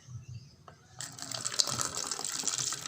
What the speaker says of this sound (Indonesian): dan tuang air dingin ke dalam botol B